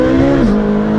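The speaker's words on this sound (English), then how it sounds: "Changing gears in the middle of a drift." A Ferrari 458 Speciale fitted with a Novitec exhaust shifts gear mid-drift, its loud, close engine note dropping in pitch at the shift before holding a steady high howl.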